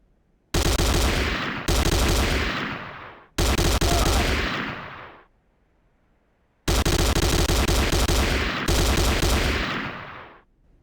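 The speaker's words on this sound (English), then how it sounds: "The next weapon is the Corbretti AR-70 Raptor automatic rifle." An automatic rifle fires in the game Command and Conquer Renegade in five loud, close bursts of rapid shots, each about a second long, with echoing tails and short gaps between them.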